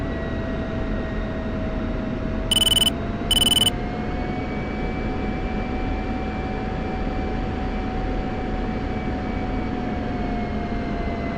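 F-16 jet taxiing on a runway in the DCS flight simulator, a steady engine drone with a continuous hum and faint whine throughout, interrupted by two brief tone bursts.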